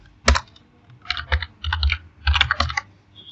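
Keys clatter on a computer keyboard as a title is typed, in short irregular bursts of crisp clicks with brief pauses between, close and fairly quiet with no talking.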